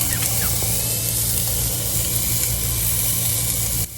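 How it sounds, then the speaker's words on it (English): Steak sizzling on a hot grill, heard close up as a steady, loud, dense hiss that holds evenly throughout with a faint low hum beneath and no voices. "Get ready to hear some sizzling steak sounds close up."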